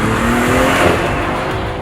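A BMW M340i xDrive with all-wheel drive and a powerful engine revs hard, a loud, sustained engine roar with tire noise, steady and close throughout.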